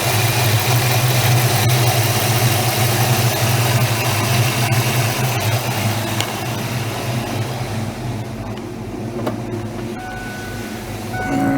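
A cold Ford Mustang engine runs just after a serpentine belt install, a steady broadband rumble that is loud at first and eases to a slightly quieter idle partway through, with no voices.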